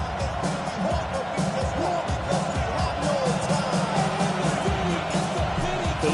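A home stadium crowd in the Madden 26 football video game roars steadily throughout as a broad, continuous wash of cheering, with a commentator talking over it.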